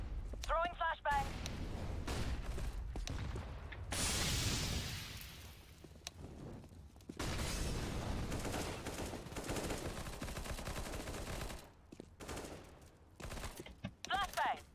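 Combat in a CS:GO professional match between NaVi and Team Liquid, with gunfire bursts, a loud hissing burst like a flashbang going off, and scattered shots and clatter, with talk over parts of it.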